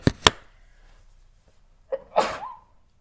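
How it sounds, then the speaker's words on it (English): A single sharp sneeze close up, preceded by a couple of quick intakes of breath, then quiet. "Oh no, I'm going to sneeze."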